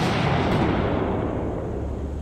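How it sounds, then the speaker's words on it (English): A single heavy boom of mortar fire in the game Six Days in Fallujah, loud and close, with a deep rumbling tail that slowly fades. "We got mortar fire originating from our south."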